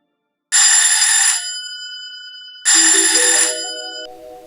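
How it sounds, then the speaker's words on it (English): A telephone rings twice, loud and close, each ring a bright, buzzing electronic trill that cuts off into a fading tonal tail, with a short silence between them. "phone rang"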